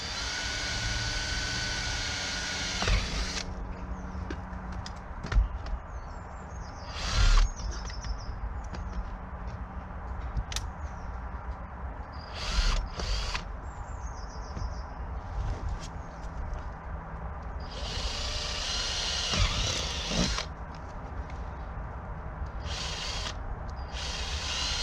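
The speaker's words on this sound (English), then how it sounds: "So here I am, drilling holes in the bottom of my pots." A power drill bores holes in the bottom of plastic garden pots on an allotment plot, several short bursts of whirring separated by pauses, fairly close, with faint outdoor background between.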